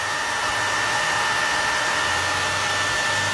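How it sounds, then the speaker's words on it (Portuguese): A hair dryer blows steadily on filler paste spread over an MDF board, a loud close whine with a constant high tone, running alone without pause. "pode secar com o secador, não vai rachar nada"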